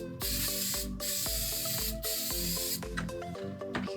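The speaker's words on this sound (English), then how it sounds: "I'm using my Super 77 spray adhesive and spray it on there." Super 77 spray adhesive hisses from an aerosol can onto a wooden panel for a 1999–2004 Mustang trunk liner, in several steady bursts with short pauses, close and loud over background music.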